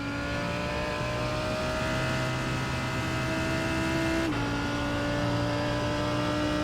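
A Pepsi Max Ferrari GT race car in a VRS GT Sprint sim racing game holds a steady, loud high-revving engine drone, dropping sharply in pitch as it shifts gear partway through, then carrying on at full throttle.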